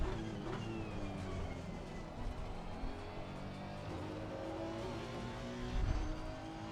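Race car engines in a sim racing game with a Ferrari close behind, a steady high engine drone with shifting pitch and faint tire noise, moderately loud and continuous with no talk.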